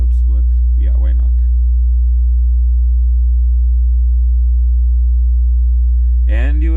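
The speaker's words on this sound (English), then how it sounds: "My subwoofer is also making some noise" A subwoofer plays a steady low tone through a microwave transformer used as an audio filter, holding a constant hum for most of the clip, with brief talk at the start and again at the end.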